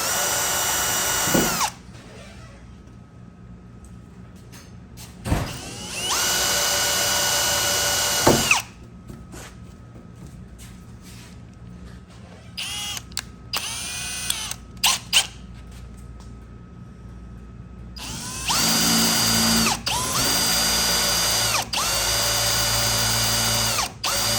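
A power drill bores holes in the body of a 1964–65 Mercury Comet during a door handle and trunk emblem install. There are several loud, sustained whining bursts of varying length, with pauses and clicks between them.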